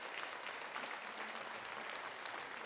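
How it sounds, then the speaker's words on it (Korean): An audience applauds after a stage performance at a school's 120th-anniversary celebration. Steady, dense clapping, faint and distant, with no voices over it. "다시 한번 깊은 감사의 박수를 보내드릴까요?"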